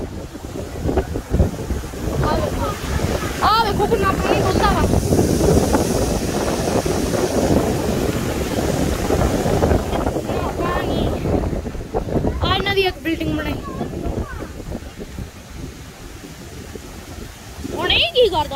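Water rushes out at the Seven Sisters dam in a steady, loud broadband roar mixed with wind buffeting the microphone, while a few voices speak briefly near the end.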